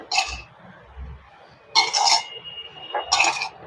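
Mashed boiled potato being mixed with a spoon in a dish: three bursts of scraping and clinking, each about half a second long, with quiet pauses between them.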